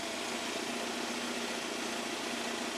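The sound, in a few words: Mercedes 190E W201 engine idling after oil change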